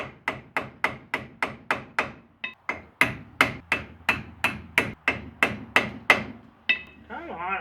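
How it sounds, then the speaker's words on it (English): Light hammer taps on a part of a 1950 DeSoto Custom, a steady run of about twenty crisp, evenly spaced strikes, close and distinct with short ringing decays and a brief pause midway. "Just little baby tap."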